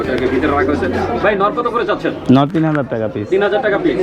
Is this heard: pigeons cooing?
yes